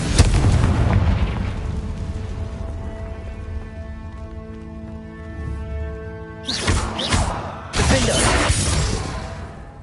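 Confringo fire-spell blasts from the video game Hogwarts Legacy: two loud, crackling explosive bursts near the end, following a stretch of sustained musical tones and rumbling.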